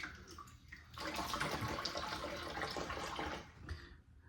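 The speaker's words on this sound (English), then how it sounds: "Now, do a quick rinse." Water runs steadily from a tap for a rinse after a shave with a Henson AL-13 Plus razor, a continuous close splashing flow lasting about three seconds between quieter moments.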